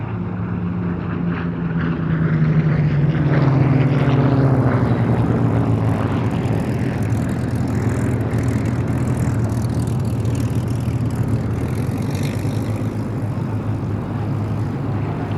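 An Avro Lancaster bomber flies past at the IWM Duxford Battle of Britain Airshow, its propeller engines a loud, sustained drone whose pitch slides downward as it passes and then holds as a steady roar.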